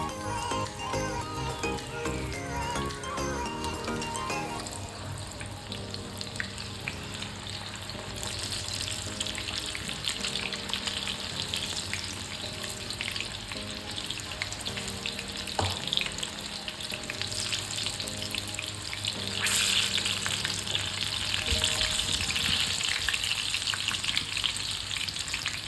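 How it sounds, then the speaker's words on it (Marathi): Small corn pakoda fritters dropped into very hot oil, a continuous bubbling sizzle that stays steady and close for the whole stretch, with faint clinks and tonal background sounds and no speech. "आणि त्यामध्ये ह्या छोटे छोटेशा भजी करून आपल्याला सोडायची आहे तेलात"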